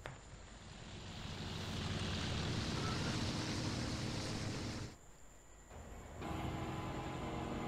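A video game train rumbles steadily along the tracks, a broad continuous roar that dips briefly before surging back; no voices.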